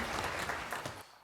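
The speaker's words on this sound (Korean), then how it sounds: "박수를 하나님께 드리겠습니다." A church congregation claps together during a Korean Sunday worship service, dense steady applause filling the room for about a second before cutting off abruptly.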